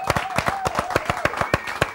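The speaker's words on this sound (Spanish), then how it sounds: "aplauso" A studio audience welcomes an artist onto a television show with quick, sharply rhythmic clapping, loud and close, while a faint sustained tone carries underneath.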